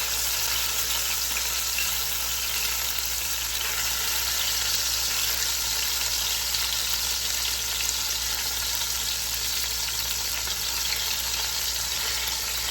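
Oxtails sear in hot vegetable oil, a loud, steady, close sizzle with crackling spatter that runs without pause and no voices.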